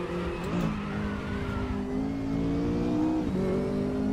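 A McLaren 570S GT4 race car engine in the racing video game RaceRoom drones at steady pitch, dipping briefly as gears shift, then climbing again in a continuous synthetic-sounding whine.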